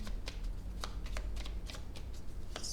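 Tarot cards are shuffled and laid over one another in a string of soft, papery slaps and swishes, spaced roughly evenly over a low steady background hum.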